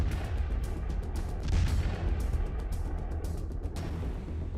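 A loud, deep explosion rumbles with heavy low-end booms and crackling debris, dense and continuous, sounding close and forceful.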